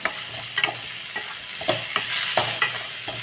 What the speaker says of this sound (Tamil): சீக்கிரமாக வதங்கிடும் தக்காளி ஒரு நிமிஷம் வதங்க உடனே நம்ம வந்து கான் ஆட் பண்ணிடலாம்